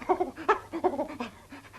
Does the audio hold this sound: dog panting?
yes